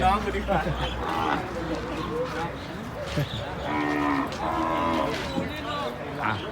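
Cattle at the Phaniat livestock market in Khok Samrong, Thailand, let out several loud, drawn-out moos while people talk continuously around them in a busy outdoor crowd.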